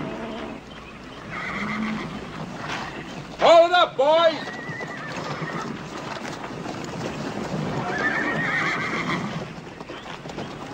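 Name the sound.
horse neighing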